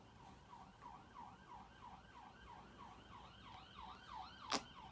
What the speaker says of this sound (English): Let's let that siren go for a sec.